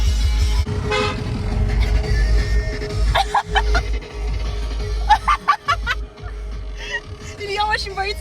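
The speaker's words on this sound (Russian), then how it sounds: "Тогда не отпускай кнопку сигнала" A car horn honks in several short bursts and sustained blasts, loud and close, along with a running car engine and excited talking and laughter inside the car.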